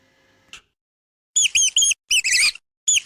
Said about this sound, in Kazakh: тышқан,